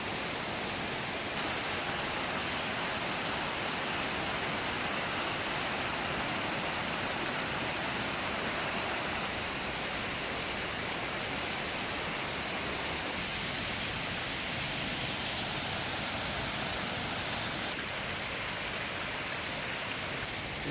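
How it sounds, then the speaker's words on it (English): Waterfalls along a walkway on Jeju Island, a steady, full roar of falling and rushing water that never lets up, loud and close, with no voices. "You can only hear the water of the waterfalls"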